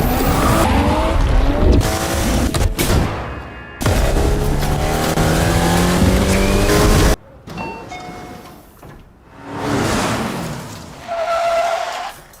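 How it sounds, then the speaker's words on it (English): A loud sports car engine revs and roars, with sharp tire squeals and skidding, followed by quieter engine passes fading in and out. "Now add the sound of a sports car."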